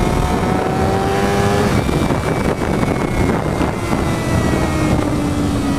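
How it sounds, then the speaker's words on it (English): A loud, continuous 2013 Suzuki GSX-R750 engine roar with a rising, whining intake howl, mixed with wind rush. "the bike has an extremely loud intake howl"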